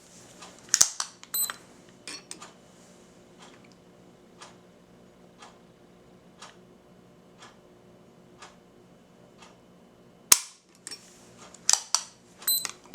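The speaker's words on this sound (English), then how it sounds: "I'm using a Lyman trigger pull gauge, electronic," An electronic Lyman trigger pull gauge tests the trigger of a Smith & Wesson Performance Center 1911 round butt pistol, giving sharp metallic clicks and snaps spaced a second or so apart, with louder clustered clicks at the start and end.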